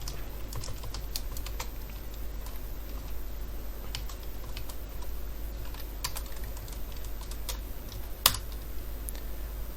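Rapid, steady typing on a computer keyboard while entering Android app layout code, with quick irregular clicks close by over a low constant hum and no talking.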